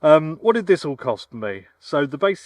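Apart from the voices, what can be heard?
No everyday noises stand out.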